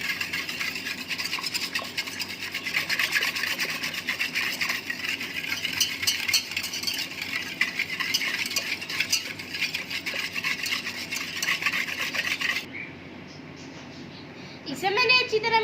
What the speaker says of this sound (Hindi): इसे मैंने अच्छी तरह मिक्स कर लिया है।